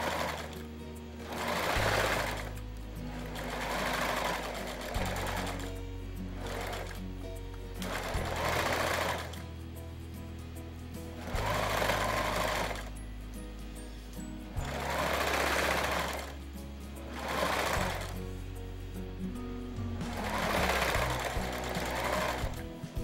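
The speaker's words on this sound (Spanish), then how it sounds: "Primero vamos a hacerle una costura recta para coserla como tal" A home sewing machine stitches a straight seam on a fabric crib pillow in repeated runs of a few seconds each, with brief pauses between them, close and steady.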